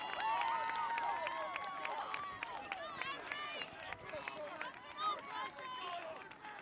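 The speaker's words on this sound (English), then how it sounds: "A lot of cheering here." Spectators cheer and call out at the finish line of a cross country race, a steady crowd roar with voices shouting over one another as a runner comes in with a big lead.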